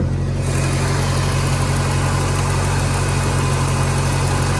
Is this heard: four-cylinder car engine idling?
yes